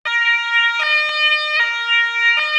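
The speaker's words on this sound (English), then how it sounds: "that's older police siren" An older-style electronic police siren sounds alone, a steady two-tone wail switching pitch about every three-quarters of a second, loud and close.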